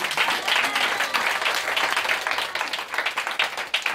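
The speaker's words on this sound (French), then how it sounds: "Clap for the Lord." A church congregation claps steadily for the Lord, a dense, continuous burst of hand claps filling the room from start to finish at even strength.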